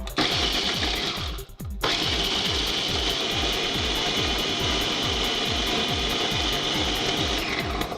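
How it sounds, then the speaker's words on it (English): A food processor grinds nuts, raisins and dates into a dough, its motor giving a loud, rhythmic chugging whir as the thick mixture thumps around, with a short pause before it resumes. "In the food processor, you're going to watch all of the nuts, the raisins, and the dates come up to a dough like that."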